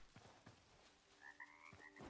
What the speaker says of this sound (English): Cute little frog.